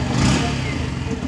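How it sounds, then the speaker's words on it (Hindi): A 2022 Yamaha FZ-S V3 DLX motorcycle engine runs with a steady, close mechanical rumble for a brief moment, fairly loud and without breaks. "तो यहां से आप इसके इंजन के साउंड को सुन सकते हैं"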